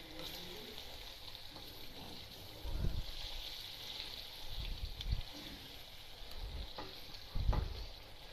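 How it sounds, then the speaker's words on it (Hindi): Makhandi halwa being stirred in ghee in a pan: soft sizzling runs underneath while a spoon scrapes and stirs in a few louder, irregular strokes, all quite faint. "हिलाते रहना इसको, नहीं तो गिल्टियाँ बन जाएंगी।"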